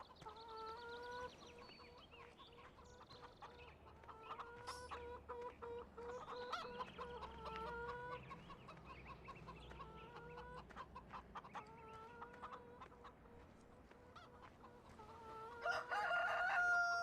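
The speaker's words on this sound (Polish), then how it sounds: "Jeszcze tutaj jajeczka od kurek. Cześć moje kury." Chickens in the Farming Simulator 2013 video game cluck repeatedly in short, pitched bursts, with a crow-like call near the end, heard faintly over a low ambient background.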